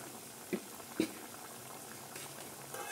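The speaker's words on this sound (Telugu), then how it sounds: "టూ సైడ్స్ కూడా గోల్డెన్ బ్రౌన్ కలర్ వచ్చే వరకు వీటిని ఫ్రై చేసుకోవాలి." Palm-fruit appalu deep-fry in hot oil with a steady, dense bubbling fizz, close and even, with two small knocks near the start and no one talking.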